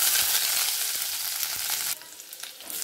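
Onion, crushed garlic and curry leaves crackle in hot oil, a loud bright sizzle with a few stirring knocks that drops noticeably in intensity near the end, no voices.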